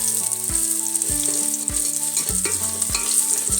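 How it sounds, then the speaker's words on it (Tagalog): Garlic frying in a pan for an adobo of trevally roe gives a steady, bright sizzle throughout, partly covered by prominent background music with plucked notes and beats. "naluluto na yung ating bawang"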